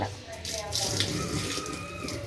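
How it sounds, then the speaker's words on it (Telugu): Hot water poured into a kitchen sink drain to flush the pipe, a steady running, splashing stream with gurgling that holds close and fairly loud for the whole moment, with faint voice underneath. "హాట్ వాటర్ వేడి చేసుకొని ఇందులో పోసేసుకోవాలి"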